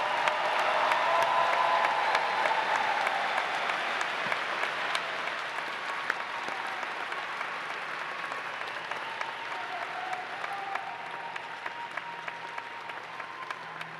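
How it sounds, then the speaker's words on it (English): A large crowd applauds graduates at Ball State University's 2021 summer commencement ceremony, with dense, steady clapping that fills the hall and slowly tapers in loudness over the stretch. "How about another round of applause for our outstanding graduates?"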